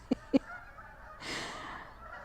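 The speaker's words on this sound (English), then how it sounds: "those are Canadian geese" Canada geese in a winter garden give two sharp nasal honks in quick succession, then a softer, breathy rushing sound follows.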